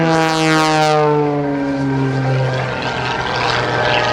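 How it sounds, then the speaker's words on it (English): An aerobatic propeller plane at an Air National Guard open house airshow pulls out of a double hammerhead, its loud engine drone sliding steadily down in pitch, then holding a rough sustained roar. "as Sean comes out of the double hammerhead, we're going to try to go live"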